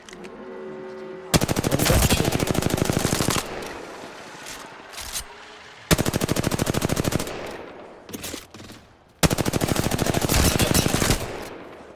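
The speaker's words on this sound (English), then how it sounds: "The enemies are shooting at me" Enemy gunfire in a video game: three long, loud sustained automatic bursts, close and rapid, separated by shorter pauses filled with scattered shots and impacts.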